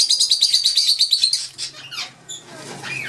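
Albino and lutino red-eyed lovebirds give a rapid run of bright, close chirps, then a few scattered higher tweets and calls.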